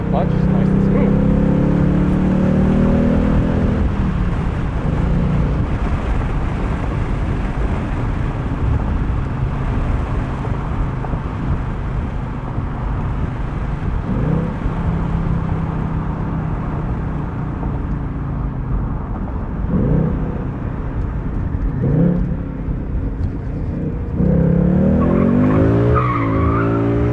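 A 2020 Ford Mustang GT Premium Convertible V8 engine drones loudly while driving, rising in pitch through the revs and dropping with gear shifts, with a voice talking over it.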